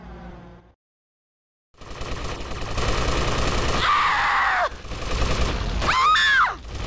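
Gunfire in the video game Grand Theft Auto: Vice City Stories, loud bursts of shots and impacts that follow a brief silence, with rising whistling effects and groaning game voices mixed in.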